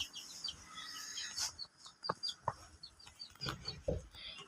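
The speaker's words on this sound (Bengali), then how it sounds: "মুরগির খোপটা একটু ভিতরে আপনাদেরকে দেখাই।" Chickens clucking inside a coop, several short calls and chirps scattered irregularly, fairly close, with faint background sounds and someone talking briefly.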